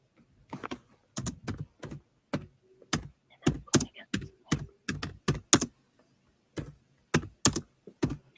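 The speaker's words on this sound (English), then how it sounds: "I can hear you typing." Rapid, uneven keystrokes on a computer keyboard, tapped out in short bursts of sharp clicks with brief pauses between them, close and fairly clear, with no talking over them.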